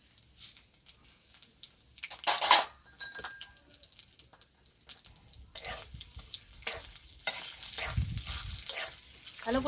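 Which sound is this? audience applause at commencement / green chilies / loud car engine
green chilies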